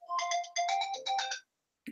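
A phone ringtone plays a quick melodic tune in three bursts and then stops, followed by a brief voice.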